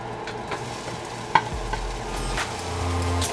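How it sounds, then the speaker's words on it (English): Onions and red peppers sauté in a pan for deer chili, with a soft steady sizzle broken by several scraping, clicking stirs of a utensil, one sharper knock standing out midway. "Gonna add in the red peppers and let those saute and get soft."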